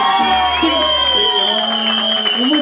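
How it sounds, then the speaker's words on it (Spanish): Applause and cheering for Laurita at a quinceañera with a youth mariachi band, a crowd's clapping and whoops beneath held sung notes and a prominent voice, all close and loud. "Y ese aplauso bien fuerte para la Laurita."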